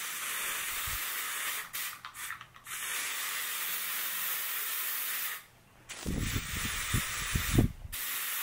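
Axe Anarchy cologne sprayed from a can, giving a close, steady pressurized hiss that runs in long bursts with brief pauses and one sharp cutoff, followed by soft rustling.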